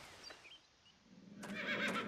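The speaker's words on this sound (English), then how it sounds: "Hi, horse." A horse whinnies in The Black Mirror video game: faint early calls, then a louder, close neigh rising in pitch and shaking near the end, with a soft stamp of hooves in the background.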